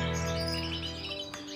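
Greenfinches chirp in a breeding aviary, a dense wash of overlapping bright calls and twitters close by, continuing steadily with no voices.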